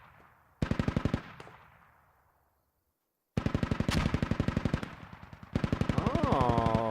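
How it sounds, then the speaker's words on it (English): Bursts of heavy .50 cal machine gun fire aimed at a BTR in a video game, three long rapid rattling strings with a pause between, loud and close, ending under a rising engine whine. "Renegade in a 50 cal here shooting back at the BTR"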